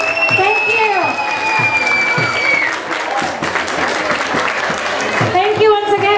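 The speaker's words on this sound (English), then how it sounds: "big applause to all of you" Crowd applause and cheering at a Janmastami celebration at ISKCON Baltimore, loud and steady, mixed with tonal sounds and voices throughout.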